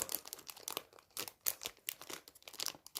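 Plastic packaging around a GAN 356 i speed cube is unwrapped up close, giving quiet, irregular crinkling and crackling bursts with short pauses between them.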